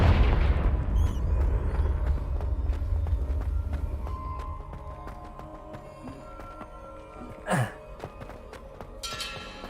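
A fiery Confringo spell blast in Hogwarts Legacy opens with a deep, loud booming explosion that rumbles away over several seconds. Game music, a brief whoosh and a sparkling spell effect follow.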